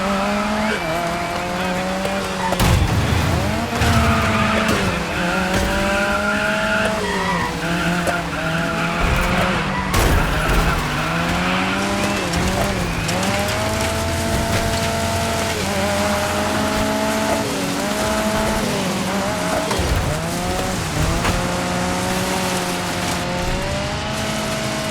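A powerful rear-wheel-drive race car in the Dirt 5 video game roars with a deep, monstrous engine note, its revs rising and falling continuously while tires skid and squeal through the corners, loud and close throughout.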